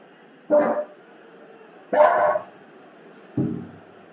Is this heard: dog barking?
yes